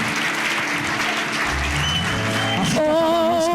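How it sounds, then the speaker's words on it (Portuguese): Church congregation applauding steadily, with a low hum underneath and a sustained musical tone coming in near the end. "dê uma salva de palmas"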